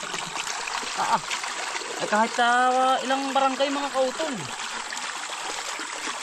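A spring in a forest gushes in a continuous rushing wash, while someone talks loudly over it for most of the moment.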